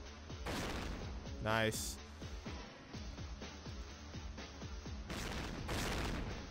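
Repeated sharp gunshots from the Goss gun in ThingThing Arena 2, evenly paced and loud, with a couple of heavier blasts and a brief spoken word over them.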